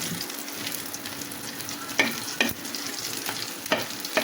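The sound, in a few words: frying taki fish in a pan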